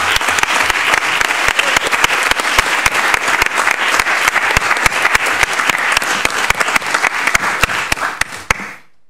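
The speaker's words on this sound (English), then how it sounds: "give all of our recipients a loud round of applause" A loud, sustained round of applause at a school board meeting honoring staff and student award recipients, dense clapping from a large audience lasting about nine seconds before cutting off abruptly.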